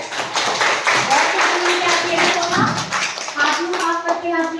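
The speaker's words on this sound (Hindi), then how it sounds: "ताली बजाओ सोनम के लिए" Schoolchildren at a government primary school prize-day celebration clap for an award winner, a busy patter of small hands mixed with tapping, while an adult and children talk over it.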